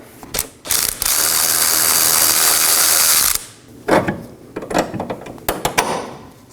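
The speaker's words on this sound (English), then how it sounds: "Now let's remove our bolt." Close, loud ratchet clicking as a bolt is loosened on a Chevrolet Equinox rear axle, one long sustained run of rapid pawl clicks followed by shorter irregular bursts of ratcheting and metallic handling.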